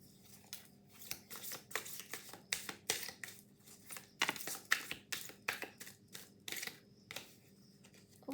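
Tarot cards being shuffled and drawn from a deck, giving a run of quiet crisp riffling, snapping and flicking sounds in irregular bursts, close and soft, with no talking.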